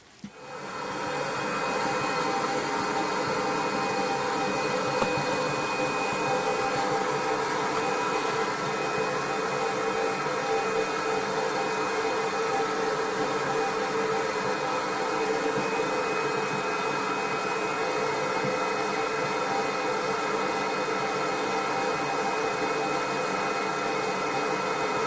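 An insulation blowing machine blows loose insulation into an attic on top of existing insulation, a loud, steady roaring whoosh that runs unbroken throughout with no talk.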